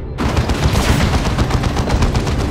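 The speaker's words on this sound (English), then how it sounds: "Another barrage. Target coordinates and fire." Artillery barrage in Warhammer 40k Dawn of War 2 Chaos Rising, a loud, dense roll of rapid blasts and gunfire that starts abruptly and pounds on continuously without pause.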